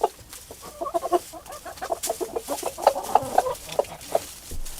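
A Chantecler rooster nearby makes a run of short, repeated clucking calls to hens in an uneven rhythm, with quiet pauses between bursts.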